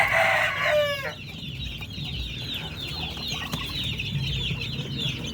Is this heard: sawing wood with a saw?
no